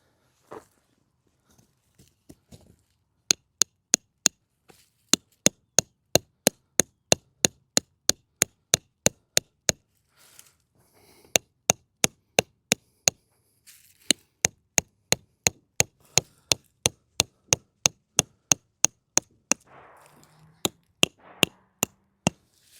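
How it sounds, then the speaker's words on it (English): Sharp metallic strikes of a hammer driving backpacking tent stakes, fast and regular in several long bursts with short pauses between, close and loud. "it comes with a hammer. Let's use it, because I'm having trouble."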